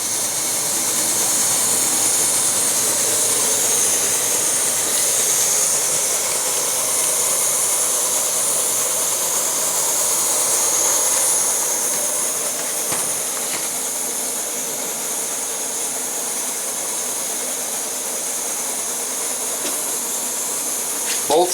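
Two MSR Whisperlite camping stoves, a standard and a Universal, burning steadily to boil water, giving a constant loud roaring hiss that runs unbroken for the whole stretch at close range.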